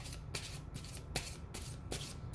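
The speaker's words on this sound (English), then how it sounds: "I started shuffling again" Tarot cards being shuffled by hand, a close, quiet series of about six rhythmic riffling bursts at regular intervals, with no talking.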